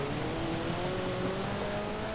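A car engine in Forza Horizon 4 holds a steady, rising drone while the car speeds downhill on a rally-style run, with a continuous rumbling texture and no voices.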